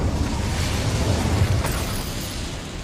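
An Incendio fire spell bursts in Hogwarts Legacy with a loud, rumbling whoosh that holds steady for a couple of seconds before slowly easing off, and no voices.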